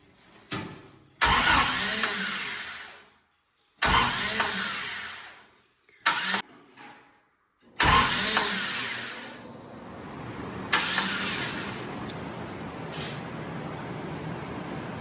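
Starter motor cranks an engine in repeated bursts powered by a low jump pack, with slack bolts on the ring gear and a Bendix that may not stay engaged; whirring cranking stops and starts several times, loud and close, with no talking.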